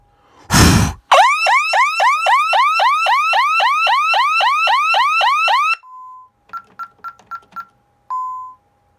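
A Vista 10se alarm panel's siren blares a loud, rapid warbling whoop repeated steadily for several seconds, then cuts off, followed by a few short keypad beeps and tones.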